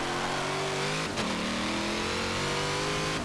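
Race car engine revving in Forza Motorsport 7, heard from a hood camera at a race start. A loud, continuous mid-pitched roar with climbing harmonics, a brief dip and a gear shift near the one-second mark, then a renewed steady climb.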